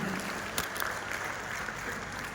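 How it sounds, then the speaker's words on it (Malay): A crowd at a Malaysian business opportunity presentation gives a thunderous round of applause, a dense, steady roar of clapping throughout with a couple of sharper peaks. "Satu tepukan yang gemuruh untuk diri anda sendiri."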